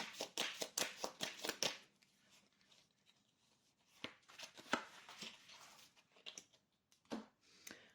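Tarot cards shuffled by hand in a quiet room, a fast burst of crisp riffling clicks at the start, then a pause and a few scattered card taps and flicks.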